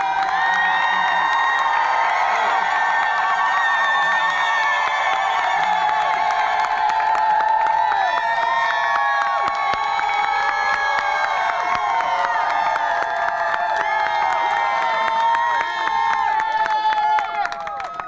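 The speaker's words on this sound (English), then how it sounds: "give yourselves a rousing round of applause so they can hear you inside." An outdoor housing rally crowd cheers, whoops and claps for a long sustained stretch. Shouting voices, including children's, layer over loud, continuous applause that keeps going for nearly twenty seconds.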